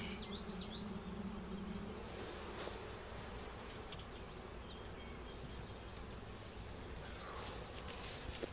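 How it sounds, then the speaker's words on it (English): A swarm of honey bees buzzes around an opened beehive while hives are combined, a dense, steady drone with individual bees whining past near the microphone, no talking. "And there are a lot of bees in the bottom still."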